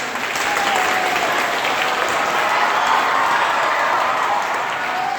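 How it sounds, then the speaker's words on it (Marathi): At a school event, students who made teaching materials get a burst of dense, sustained applause from a crowd. The clapping is loud and even throughout the clip. "या सर्व विद्यार्थ्यांसाठी जोरदार टाळ्या"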